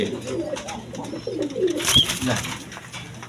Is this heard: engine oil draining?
no